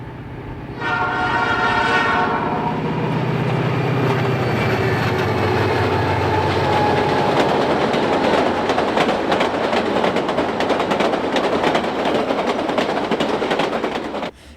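A heavy coal freight train of 6,500 tons rumbles and clatters steadily across the Alaska Railroad's high steel bridge over Hurricane Gulch, opening with a long loud horn blast, the rolling metallic din continuing throughout without talk.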